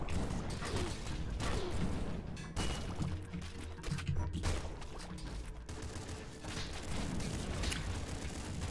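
Turtle shotgun firing in the Nuclear Throne video game, a dense, continuous barrage of loud blasts and impacts with little pause between them.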